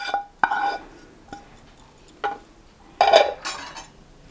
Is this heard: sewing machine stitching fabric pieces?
no